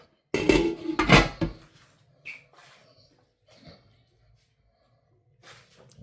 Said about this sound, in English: I'm gonna chop it up.